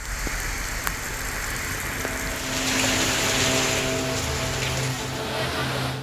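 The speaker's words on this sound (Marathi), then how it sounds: "गेल्या 3 दिवसांपासून महाराष्ट्रभरात मुसळधार पाऊस पडतोय।" Heavy monsoon rain in Maharashtra pours in a steady, dense wash that swells louder midway, with a low rumble underneath and no voices.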